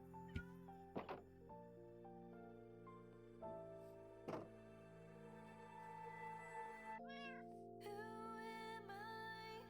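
Minecraft cat meows, a few short synthetic mews heard faintly among game music tones and a couple of sharp thumps, with no talking.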